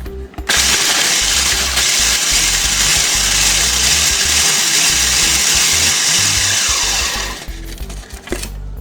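A food processor pulses graham crackers into fine crumbs, a loud steady whirring grind lasting several seconds before cutting out, heard alone up close.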